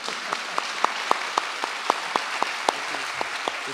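Sparse, slow clapping from a small audience at a live talk event in Ostrava, individual hand claps landing roughly every quarter second over a quiet room, fairly close and distinct.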